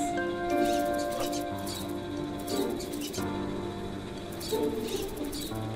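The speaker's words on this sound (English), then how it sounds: "Oh, look at all the birdies!" Birds chirp and coo in a hidden object puzzle game set in a frosty sacred grove, with repeated soft calls layered over steady game music and ambient tones.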